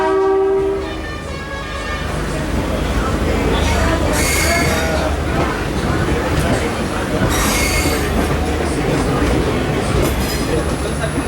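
An Indian Railways DEMU express train pulls out of Solapur station platform 2, wheels squealing and cars rumbling loudly and steadily alongside, with a horn blast near the start and a continuous close rail clatter throughout.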